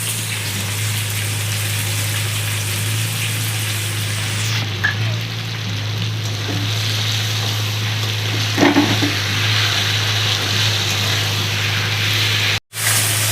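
Steady sizzle of spices frying in a pan over already-fried vegetables for a Bengali fish curry, with a low hum beneath and a few soft stirring knocks, ending in a brief break near the end.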